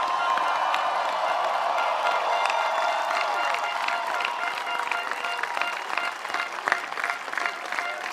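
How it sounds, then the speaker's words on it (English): A large crowd at a Hungarian presidential election rally applauds and cheers continuously, a dense wash of clapping with scattered shouts holding steady throughout. "That's a big crowd"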